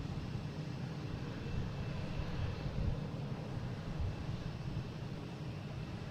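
An American Airlines Airbus A319 arriving at Boston Logan International Airport produces a faint, distant, steady broadband roar of jet engines. The drone holds level throughout, with no voices.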